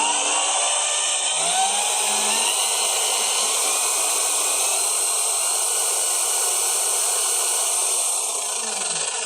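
A drill running at 2400 RPM bores into softwood with a 12mm bit, giving a steady, loud, high-pitched whine that holds without a break throughout.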